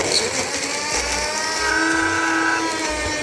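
A small electric chopper grinds chili peppers with a little oil, making a loud, steady mechanical whir with rhythmic rattling pulses, close up and with no voices.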